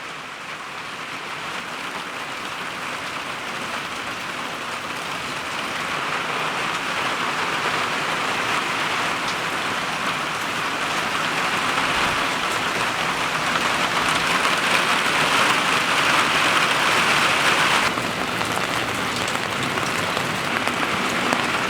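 Heavy rain pours down in a backyard, a dense, loud, steady roar of water that swells gradually and stays constant with no voices.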